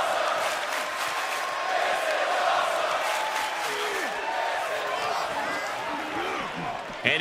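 Arena crowd noise in the WWE 2K24 wrestling game: a steady, dense roar of cheering fans rises and holds throughout, with a commentator's voice talking over it.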